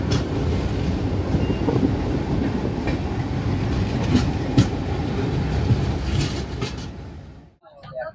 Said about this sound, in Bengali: ট্রেন ছাড়লো